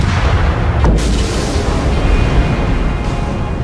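A heavy boom from a torpedo hit in the naval game World of Warships, one sharp blast near the start over a continuous loud low rumble of battle noise.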